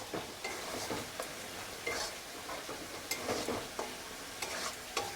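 Food frying in oil in a pan with a soft, continuous sizzle, punctuated by light rhythmic scrapes and taps as it is stirred, fairly quiet and close, with no speech.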